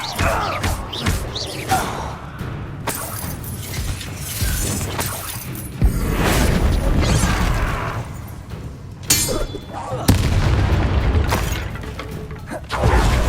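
Spell effects cast in the Hogwarts Legacy video game, a fire spell and a levitation spell, come as bursts of crackling, whooshing and shattering game sound, with heavier booming surges midway and near the end, loud and continuous.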